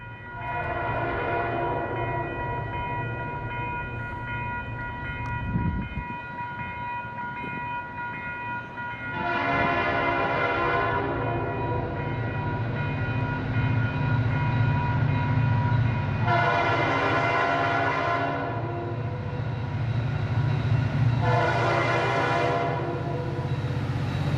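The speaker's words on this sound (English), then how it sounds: "the sound of a horn soon announced 608's arrival in town" A New England Central GP40-2 freight locomotive sounds its horn in a small town, sustaining long chord blasts in about four repeated bursts over a steady low diesel rumble as the train approaches.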